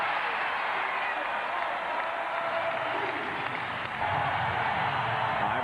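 Dense roar of a basketball arena crowd in Minneapolis cheering during a Sixers at Timberwolves game, a steady loud wash that swells slightly near the end, with no clear voices above it.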